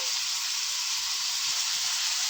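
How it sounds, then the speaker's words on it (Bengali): Sliced potatoes frying in a pan with turmeric and salt in a home kitchen, a loud, continuous, even sizzle and hiss that holds steady throughout with no talking. "আলু ভাজি"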